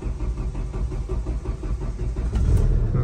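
Hyundai i20 engine running after sitting unused for many days: a steady, rumbling mid-pitched drone heard close up and alone, growing slightly louder toward the end.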